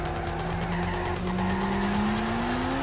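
Twin Toyota Supras drift together in the Torque Drift video game, their tires squealing in a long sustained screech over loud revving engines, with the engine pitch climbing steadily throughout.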